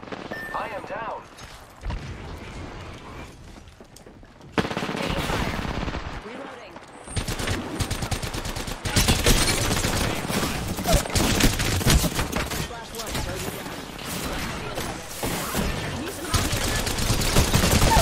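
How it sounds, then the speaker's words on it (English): Enemy gunfire in a shooter video game, dense bursts of automatic fire and scattered shots rattling loudly and almost without pause, with a player talking over the shooting. "The enemies are shooting at me."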